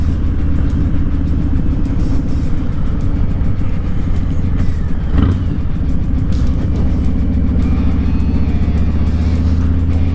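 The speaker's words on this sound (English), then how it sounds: "I might be riding around on a basically brand new Harley Lowrider S" A Harley-Davidson Low Rider S motorcycle rumbles steadily while being ridden, its deep, loud engine drone continuous throughout with constant wind noise and no speech.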